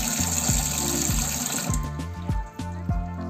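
Water running and draining through a small hole, about two centimetres wide, in a sink built from an old washing machine: a steady wash of flow with repeated low gurgling pulses, close and fairly loud, with no talking.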